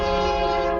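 A brief, loud, steady blast of a train horn sounds in the Factorio video game as a train strikes the engineer character, a rich harmonic tone held for under a second.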